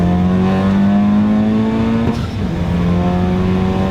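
An Acura Integra Type S, a 2024 model, revs its engine and is heard from outside the car, a loud, sustained and steady drone with a brief dip partway through and no talking.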